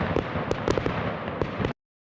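Fireworks burst in a rapid series of sharp cracks and pops, loud and close, crackling for under two seconds before cutting to silence.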